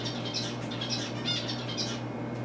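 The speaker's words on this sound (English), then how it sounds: "Bird." A pet bird, a molting parrot, squawks in a few short, fairly loud bursts over a steady indoor hum, with no talking.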